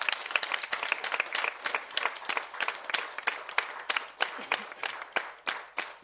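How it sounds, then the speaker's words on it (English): An audience claps at a live event, a dense run of handclaps that swells and fades in waves, fairly soft and heard from a short distance, with no talking over it. "let us also give a big round of applause to Shalini, because"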